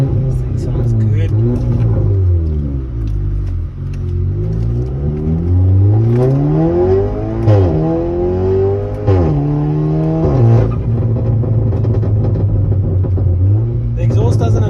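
A VW Polo 6C fitted with a loud aftermarket exhaust drives and revs up through the gears, its rumbling engine tone rising and falling repeatedly, heard from inside the car under occasional voices.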